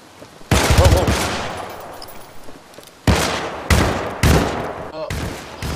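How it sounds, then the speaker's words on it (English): Loud pistol shots in the co-op shooter Syndicate: one heavy report followed after a pause by three more booming shots in quick succession, each with a ringing tail. "Did I just shoot someone in half with a pistol?"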